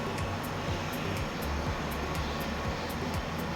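Aircraft engines in Microsoft Flight Simulator run up to taxi power for a P-8 Poseidon or C-17 Globemaster, giving a steady, dense roar throughout with faint higher whines over it.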